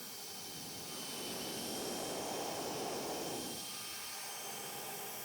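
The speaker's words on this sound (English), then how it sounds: "sometimes I use this little air-powered sander. Works well." A small air-powered sander runs on a walnut piece turning on a lathe, a steady whooshing whine that swells louder in the middle as it presses in, then settles back, with no talking.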